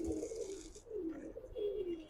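Giribaz pigeon cooing close by in a loft, three soft, low, descending coos in quick succession with no voices.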